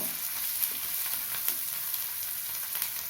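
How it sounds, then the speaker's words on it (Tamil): Spring onions sautéing with salt in a pan: a soft, even sizzle hissing steadily throughout, with occasional faint ticks, moderately quiet and close. "1 நிமிஷம் வதங்கட்டும்"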